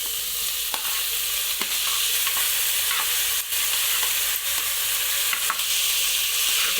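Chana dal, green chillies and tomatoes frying in a pan, a dense close sizzle broken by repeated scraping stir strokes, with no talking.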